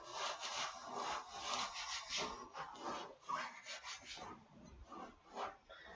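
The fabric of an old, worn Carhartt work jacket rustles and rubs in steady, continuous scratchy swishes, fairly close and fairly loud, with no voices.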